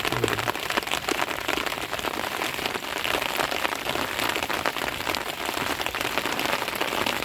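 Steady, loud rain pours onto a flooded field during current-net fishing for tengra fish, a dense continuous hiss of drops on water and ground with no voices.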